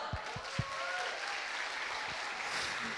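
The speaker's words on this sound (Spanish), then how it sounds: "Y después le damos un fuerte aplauso" Steady applause from a church congregation, dense clapping sustained throughout, with a few low thumps near the start.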